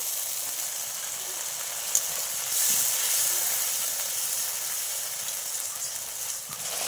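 Water from a rinsed spice bowl hits a hot pan of spices for a light rohu fish curry with potato and pointed gourd, giving a steady close hiss that swells briefly partway through.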